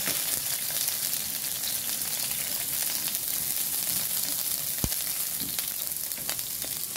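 A galunggong fish fries in hot oil in a pan, a steady close sizzle and crackle of oil running throughout with an occasional soft knock, and no talk.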